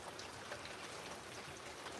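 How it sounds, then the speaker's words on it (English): Heavy rain falls outdoors in a dense, steady hiss of countless drops, constant and fairly faint, with no breaks or voices. "Man, it's raining like crazy."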